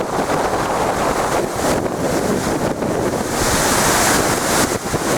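Stormy weather whips up crashing waves and strong wind. The loud, roaring surf and gusts buffet the microphone without a break, and no voices can be heard.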